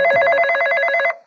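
A telephone bell rings with a fast trilling warble, close and loud, running steadily for about a second before cutting off abruptly.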